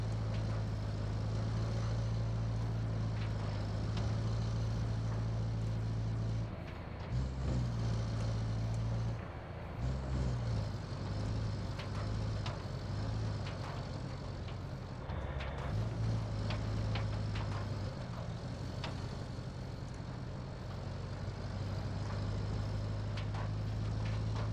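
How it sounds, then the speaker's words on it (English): Vehicle engine running in a video game while driving through mud, a steady low droning hum that persists with slight dips in pitch and level, fairly quiet and continuous without talk. "Wish the engine's a little louder."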